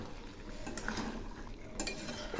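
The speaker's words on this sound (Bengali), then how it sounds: "এগুলি এই মশলার সঙ্গে বেশ কিছুক্ষণ ধরে কষাবো।" Boiled potatoes and young jackfruit being stir-fried with spices in a pan, with steady scraping and stirring clatter over a soft background sizzle, close and continuous.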